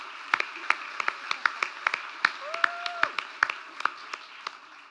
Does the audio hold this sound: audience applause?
yes